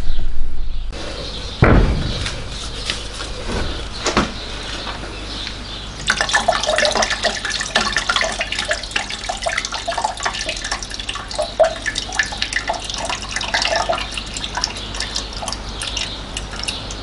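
Acid drains from an old car battery, pouring and splashing steadily into a container, close and fairly loud, with a thump near the start and a brief clatter.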